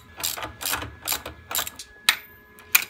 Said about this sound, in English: Get that wrench doing its job.